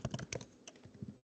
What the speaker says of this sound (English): I'm typing for another graphic